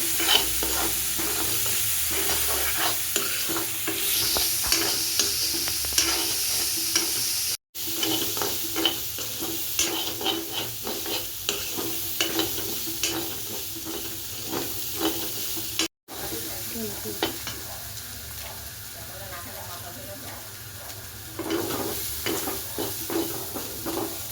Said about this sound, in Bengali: এখন এখানে দিয়ে দিয়েছিল সেদ্ধ করা চানা, আর এটা এখন ভালো করে মিক্স করব।